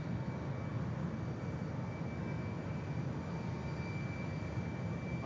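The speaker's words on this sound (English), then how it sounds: "Our Dreamliner rotating later than the Qatar 777 there." A Boeing 787 Dreamliner jet takes off at Manchester Airport, its engines giving a steady, broad roar that holds even throughout at a moderate distance, with no voices.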